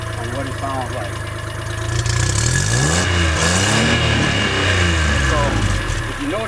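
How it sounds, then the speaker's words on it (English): A new Pro-Drive 50HP mud motor runs steadily at idle, then picks up with a loud throttle rev whose rising, wavering engine tone stays near and continuous to the end. "I'll give it a little throttle just to give you an example on what it sounds like."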